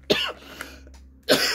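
Two sharp coughs, the first followed by a short rasping tail, the second after a brief pause, close and loud with no talking.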